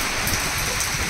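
Heavy night rain pours down in Delhi, a dense, even hiss of drops striking nearby surfaces close to the microphone, with no speech.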